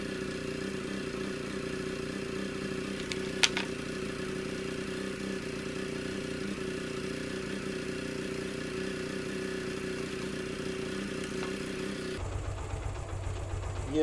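A Suzuki GR150 motorcycle engine idles steadily at close range, a low, even mechanical rumble with faint clatter, a sharp click near the start and a sudden shift in tone just before the end.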